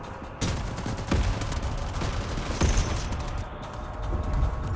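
Bursts of automatic gunfire in the mobile shooter Delta Force Mobile crack at several moments over a constant din of game noise, fairly loud and close.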